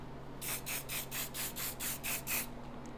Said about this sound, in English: finish it off with a little bit more of the dry spray